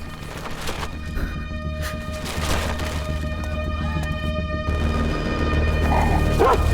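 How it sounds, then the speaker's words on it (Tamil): A dog barks and yips near a van in a movie scene, short barks and whimpers repeating over a steady background hum and music, moderately close. "ஏய் ஒரு நாய் வேன் பக்கத்துல சுத்திட்டு இருக்கு."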